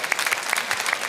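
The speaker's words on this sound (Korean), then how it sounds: "하루에 100번씩. 우리 박수" A church congregation bursts into brief, steady applause during a sermon, many hands clapping together in a bright, even patter that fills the room for about a second.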